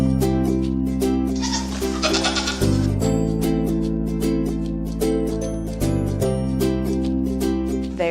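Goats raised for milk on a dairy farm bleat in loud, sustained, wavering cries, one call overlapping the next with no pause.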